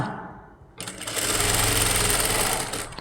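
A sewing machine stitches along the edge of a saree. After a brief quiet start it kicks in loud and close with a fast, even, continuous mechanical whir until the end.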